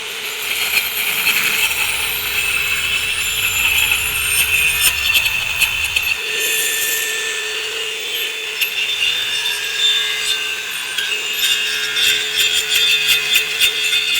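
A power saw makes plunge cuts into old decking boards, giving a loud, harsh, continuous cutting whine that runs unbroken for the whole stretch. The grinding tone shifts slightly partway through, with no voices.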